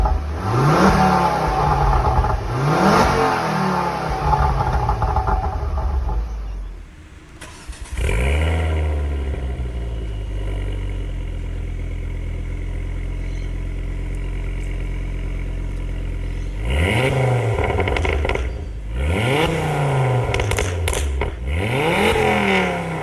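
A warmed-up Ford Focus XR5 (Mk2 ST) with an aftermarket exhaust revs hard in loud, rising-and-falling bursts, settles into a deep rumbling idle for several seconds, then revs repeatedly again, close and with no voices.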